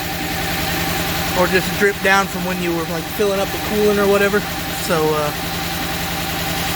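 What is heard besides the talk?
Subaru B9 Tribeca car engine idling after installation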